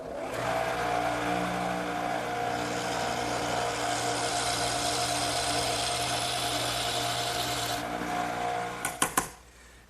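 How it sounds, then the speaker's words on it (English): A drill bores through the wooden center brace of a trestle table, a steady whirring grind for about eight seconds that cuts off, followed by a few sharp knocks. "this one I'm going to have to drill all the way through"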